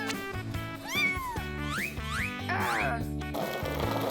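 Several cartoonish cat meows with rising and falling pitch, heard over cheerful background music in the game Avatar World.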